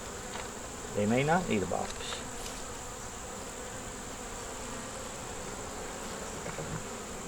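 Honey bees hum in a steady, close drone around a hive box in an apiary, the buzz running the whole time while someone speaks briefly near the start.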